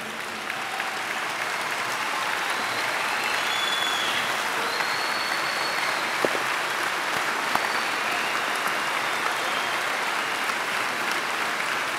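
Convention delegates applaud steadily throughout a large hall at a postal workers' union convention, a dense, sustained wash of clapping with no clear breaks.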